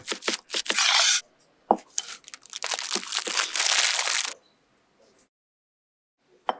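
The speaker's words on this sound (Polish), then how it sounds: "Pokrój liście sałaty." Crisp crunching and rustling as a knife slices through lettuce leaves on a board, in bursts with short pauses, close up.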